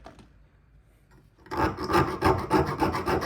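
A hand file scraping across hardened, oil-quenched steel being tested, a short quiet lead-in then loud, rhythmic rasping strokes back and forth, close and without talk.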